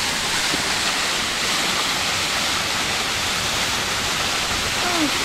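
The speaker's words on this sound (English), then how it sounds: "So we have a waterfall also here." Sipi Falls in Uganda roars in a dense, unbroken rush of water, loud and steady throughout.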